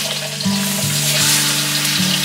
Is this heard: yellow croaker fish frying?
yes